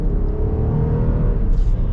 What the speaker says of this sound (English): The V6 is great as an entry-level engine for the Durango